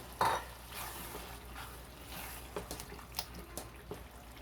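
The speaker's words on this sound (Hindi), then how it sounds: "अब इसमें हम ये दही वाला और सूखे मसाले वाला मिक्सचर इसमें डालेंगे और इसको हम अच्छे से मिक्स कर लेंगे।" Yogurt and dry spice mixture for keema masoor biryani stirred into a pot, with a faint wet squelch of spoon strokes, soft clinks against the metal and a low background hum, no voices.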